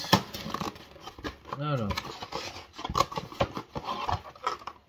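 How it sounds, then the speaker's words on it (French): Cardboard parcel holding a 4K Blu-ray steelbook being opened, with close crinkling, tearing and handling taps in irregular bursts, while someone talks briefly. "Et on va déballer ça tout de suite."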